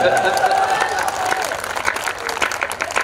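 Audience clapping at a live Hindi comedy show, a steady spread of applause heard alongside continuous speech from the stage.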